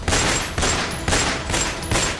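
Rapid pistol fire from attackers at a petrol pump in Delhi, loud bursts of shots repeating roughly every half second in a rough rhythm, close and harsh, with no voices.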